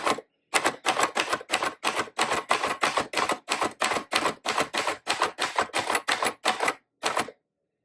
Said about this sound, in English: I'll just type a couple so you can kind of see.